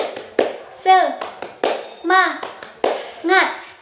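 Children clap a rhythmic cheer-style ice-breaker pattern in a classroom lesson, sharp clap bursts repeating in groups at a lively beat, mixed with children's voices chanting between the claps.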